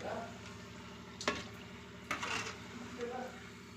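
Potato lollipops frying in hot oil, with a soft, continuous sizzle and a few louder bursts of crackle and stirring. Heard faintly up close, with no talking.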